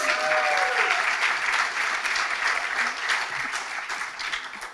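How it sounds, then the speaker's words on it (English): Audience at a fall showcase applauding steadily, a dense even wash of clapping that holds for several seconds at fairly close range, with a few faint voices mixed in. "So can we clap for them, please?"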